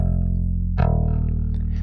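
Dry direct-input bass guitar with a boxy, dead tone: a low note sustains, then a fresh pluck rings on, steady and close with little top end.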